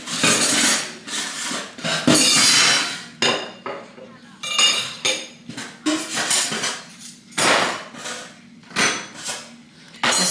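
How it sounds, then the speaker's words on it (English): Dishes clatter and clink as a child throws them around in a home, repeated irregular bursts of crashing ceramic and metal over about ten seconds, loud and close with brief quiet gaps between impacts. "Excuse the noise, my son throwing dishes."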